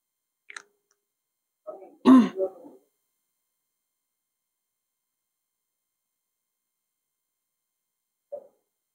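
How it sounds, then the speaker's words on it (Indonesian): A single close throat clearing merging into a short cough in an otherwise quiet room, with a tiny click before it and a faint brief vocal sound near the end. "Tapi tadi batuk sakit nggak?"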